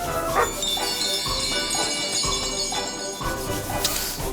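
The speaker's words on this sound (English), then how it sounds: "that dog doesn't like us" Dog barks and yips in the fantasy RPG Chained Echoes, several short barks spread through the clip over a steady bed of game music and ambience, with a light jingle near the end.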